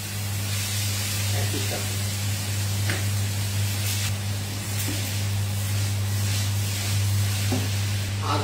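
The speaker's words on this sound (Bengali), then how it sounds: "আমার তেল গরম হয়ে গেছে, এখন জিরাটা ঢেলে দিলাম।" Cumin, onion and potato frying in hot oil in a pan, a steady dense sizzle and hiss that continues throughout, with a few brief clinks and a short spoken phrase over it.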